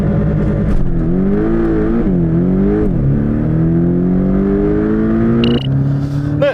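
A Porsche 718 Boxster GTS accelerates hard, its engine rising loud and close through several gear changes with brief dips between shifts.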